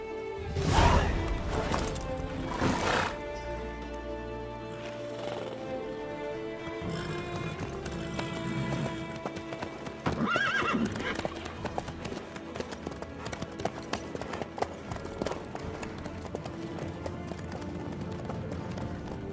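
Horse hooves clip-clop in Witcher 3, with a loud gallop burst early, then steady hoofbeats running under a dense orchestral game score; any neigh is hard to pick out.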